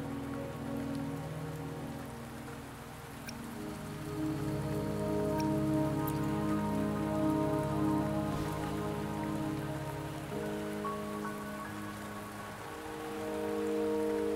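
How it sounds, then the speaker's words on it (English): Steady rain patters across the scenery in the video game Wuthering Waves, a continuous soft hiss of falling drops over a quiet musical backdrop, with no voices. "Don't worry, the rain won't last much longer."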